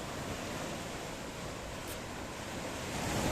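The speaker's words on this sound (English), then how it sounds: "It's a licking and lapping. In fact, it's a little bit crashy today on the shoreline of downtown Paphos." Mediterranean Sea waves lap and wash onto the sandy shoreline at Paphos, Cyprus, with a steady broad rush of surf mixed with wind noise, continuous and moderately loud.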